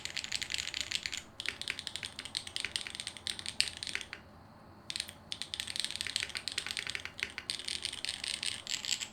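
Rapid clacky keystrokes on a rebuilt mechanical keyboard with Typface keycaps, dense continuous typing with a marbly tone and one brief pause, close and alone without talk.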